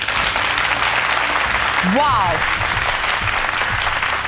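An audience applauds the leaders at a panel-style show, steady loud clapping throughout, with a single voice exclaiming briefly in the middle.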